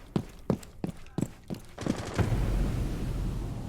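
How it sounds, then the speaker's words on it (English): Gunfire in a multiplayer shooter game is fired through a wall in several sharp, evenly spaced shots, then swells into a denser, rumbling burst that trails off. "He's literally trying to shoot him through the wall."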